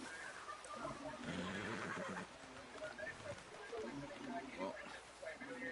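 A horse whinnies in Red Dead Redemption 2 under talking, with game-like ambience and a steady background mix throughout.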